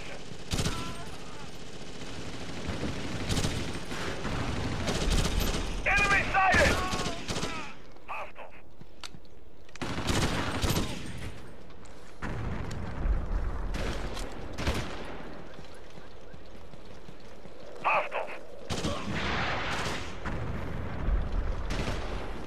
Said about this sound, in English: Sir, Ramirez is secure on the roof, but we are taking heavy RPG fire.